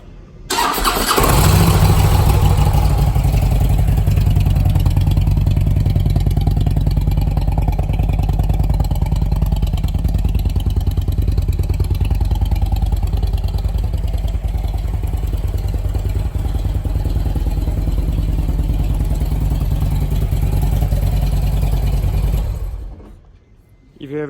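A Harley-Davidson motorcycle engine cranks and fires, then settles into a loud, steady, throbbing idle for about twenty seconds before cutting off abruptly.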